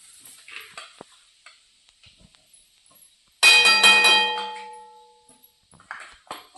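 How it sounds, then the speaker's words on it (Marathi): A spoon stirs mustard seeds, cumin and turmeric in a metal pan with soft scattered scrapes, then strikes the pan once for a loud ringing clang that fades over about two seconds before the quiet scraping resumes. "असं हलवून घेऊया."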